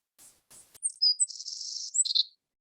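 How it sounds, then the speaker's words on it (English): Savannah sparrow song in eastern Washington shrub-steppe: a few soft introductory ticks followed by a high, thin buzzy trill and sharp closing notes, clear and fairly close, with no other sounds. "And there's Savannah sparrow's song."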